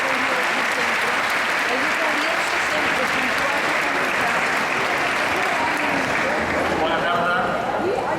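Audience applause at a Festa Major festival concert in Calella, a dense, sustained wash of clapping from a large crowd, loud and continuous throughout the short stretch.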